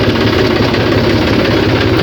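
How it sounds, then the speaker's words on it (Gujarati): A vehicle stuck in sand runs its engine in a steady, close idling rumble with a faint knocking vibration, continuous and alone with no voices. "તો જો ગાડી બી અટકાઈ રહી છે એક,"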